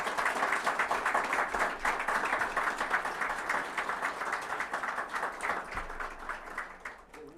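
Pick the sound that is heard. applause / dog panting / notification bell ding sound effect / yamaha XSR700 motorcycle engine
applause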